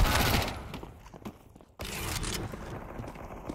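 Gunfire in Counter-Strike 2 with a Desert Eagle pistol: bursts of dense, crackling shots up close, a brief near-silence midway, then renewed loud firing and mechanical clatter, with no talk.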